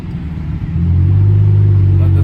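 A car on the road gives a low, close engine rumble that swells louder after a moment and then holds steady and heavy.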